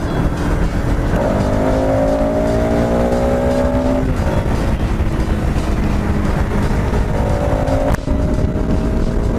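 A Bajaj Pulsar RS 200 motorcycle engine runs loud and close, its pitch rising and falling through several revs over a steady, dense mechanical roar, with no voices.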